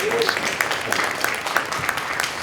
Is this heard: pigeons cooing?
no